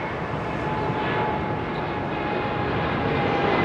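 An Oman Air airliner at Heathrow Airport roars as a broad, steady jet rumble, loud and unbroken across the whole moment, with no talk over it.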